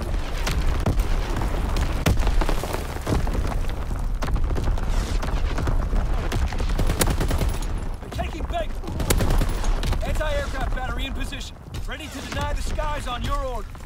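Video game artillery barrage pounds the battlefield with dense rapid booms and bursts of gunfire, loud and continuous, while radio-style voices talk over the explosions.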